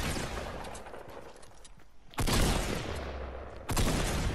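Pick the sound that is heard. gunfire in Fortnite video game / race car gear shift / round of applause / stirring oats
gunfire in Fortnite video game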